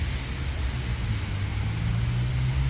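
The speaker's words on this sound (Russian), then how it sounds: "Приехали, у нас тут дождит." Steady rain falls outdoors in Dnipro, a constant close hiss with a low rumble underneath and no voices.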